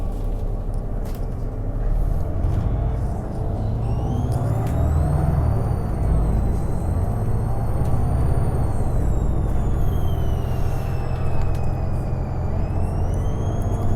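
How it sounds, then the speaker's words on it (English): A Transperth bus engine in Perth drones steadily with a low rumble, while a high, wavering squeal rises and falls over it. "what is this motor sound?"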